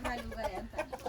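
Chickens clucking in a village coop, short soft clucks repeating at close range beneath a person talking.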